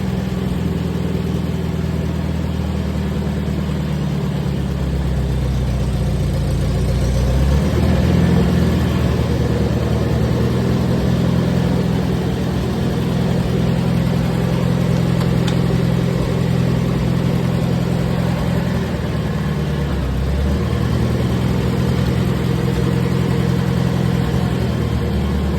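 An IH Farmall 230 tractor engine runs close by with a steady, loud mid-pitched rumble, swelling briefly a couple of times as if revved, with no talking.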